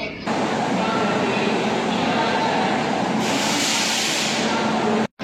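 Railway station ambience on platform 2 beside the SMVT Kamakhya Express, a steady loud rumble of train and platform noise that holds throughout, then cuts off abruptly near the end.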